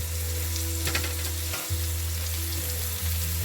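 Burger patties cook in a pan with a loud, continuous close sizzle and a steady hiss, briefly dipping once before carrying on alone with no talking.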